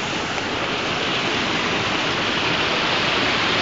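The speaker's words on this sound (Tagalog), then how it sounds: "Ayan po, waterfall." A waterfall near a cave pours in a dense, steady roar of rushing water, loud and close, with no other sounds breaking through.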